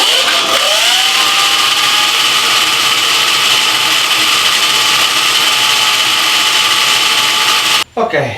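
A TINBOT ES1S-PRO electric supermoto runs in sport mode through its chain drive, giving a loud, steady high-pitched whine and mechanical whir close by that spins up at the start and drops out briefly near the end.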